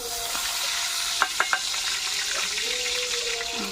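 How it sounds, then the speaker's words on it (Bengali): Dried red chillies and bay leaves hit hot oil in a pan and sizzle continuously, with a few sharp crackling pops and the scrape of stirring, close up. "শুকনো লঙ্কা, তেজপাতা ফোড়ন দিয়ে দেবো।"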